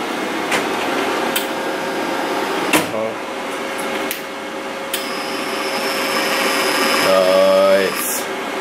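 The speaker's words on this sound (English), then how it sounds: "that's the main drive motor." Main drive motor of a spool gun attached to a 250A Mig Pro MIG welder runs with a steady whirring hum, close by, with a brief tonal whine rising near the end.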